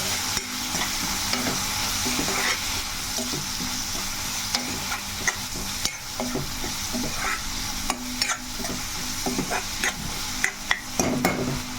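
Onions with salt and turmeric sizzle and fry steadily in a hot pan while being stirred, with scraping strokes and soft clinks of a spoon against the pan throughout, close and continuous with no talking.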